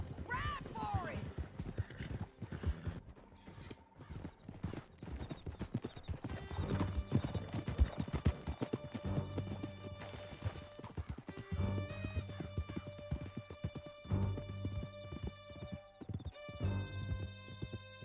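A horse gallops in the Red Dead Redemption 2 video game, with rhythmic clip-clop hoofbeats throughout, a whinny near the start, and music and other game sounds layered underneath.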